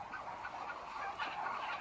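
Chinese ducks quack and honk in a duck shed early in the morning, a faint, continuous, overlapping chorus of many birds.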